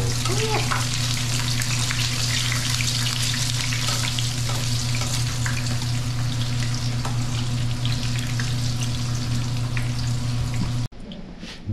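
Egg frying in a pan with oil, a steady loud sizzle and crackle with a constant hum beneath, cutting off abruptly near the end.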